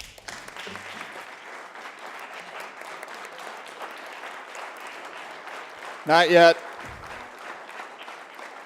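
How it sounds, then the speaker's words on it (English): Applause rises in a state senate chamber, a steady patter of clapping that carries on beneath a voice speaking briefly, with a louder burst near the end. "Let's give him a round of applause."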